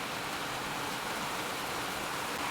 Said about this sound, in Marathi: भगवंताच्या कृपेने पाऊस आलेला आहे.